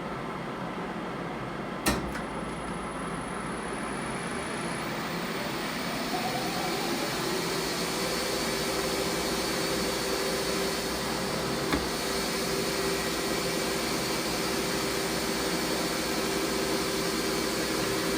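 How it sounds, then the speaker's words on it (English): A metal lathe runs with its carriage power-feeding under a Clough42 electronic leadscrew with the half nut engaged, giving a steady close machine hum and faint whine, with a couple of sharp clicks near the start and middle. "engage the half nut, and the carriage should move towards there, and then we'll play around with the feed rate"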